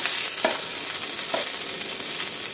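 Thai curry paste stir-fried in a pan for a long-bean stir-fry, giving a steady, close hiss of frying with a couple of soft scraping strokes and no voices.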